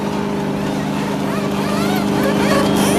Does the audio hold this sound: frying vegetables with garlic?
no